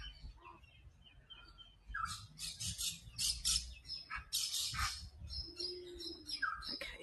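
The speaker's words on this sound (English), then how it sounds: "There's a few gulls," Gulls at a wildlife park give several sharp squawks and chirping calls, some close and some farther off, scattered irregularly against a quiet outdoor background.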